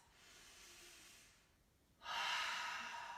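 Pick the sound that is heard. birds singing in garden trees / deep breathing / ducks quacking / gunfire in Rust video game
deep breathing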